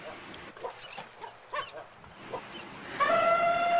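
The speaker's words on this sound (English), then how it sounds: "It's a dog." A dog barks and yips several times in short, uneven bursts at close range, then a bright sustained tone swells in at the end.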